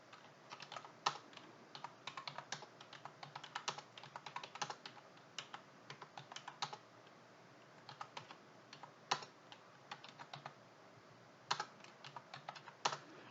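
Rapid typing on a computer keyboard while entering text into a spreadsheet cell, with close, crisp key clicks in uneven bursts and short pauses, alone without any voice.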